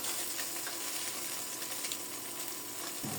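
Small fish coated in rice flour fry in a wok, producing an even, bright hiss of sizzling oil that stays steady and close throughout with no talking.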